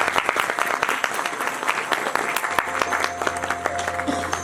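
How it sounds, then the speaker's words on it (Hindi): Applause from a satsang congregation at a Hindi spiritual gathering, dense steady clapping filling the space for several seconds, with a low sustained hum underneath in the second half. "जोरदार ताली।"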